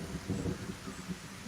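Rain and rumbling thunder in the video game Kenshi, a faint, low, brief roll of thunder over a soft rain hiss with no voices.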